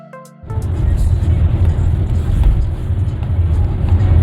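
A rented Hyundai Staria people carrier drives along an Australian highway, its steady road and engine rumble loud and close inside the cabin, rising from a brief quiet start and holding an even drone throughout.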